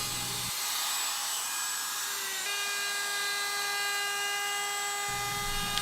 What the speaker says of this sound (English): I'm going to route a 45-degree chamfer on the top edge of the bottom one